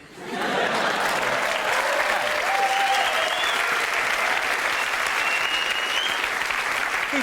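A comedy roast audience breaks into loud, sustained applause that swells quickly and holds steady, a dense crowd of clapping hands with no voices on top.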